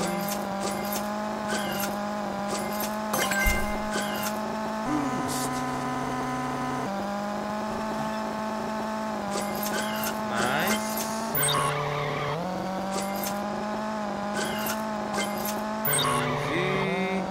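Car drifting in the PC racing game Sprint Racer, a sustained engine drone with shifting pitch and repeated tire squeals across the whole stretch, loud and continuous, with a voice speaking over it at times.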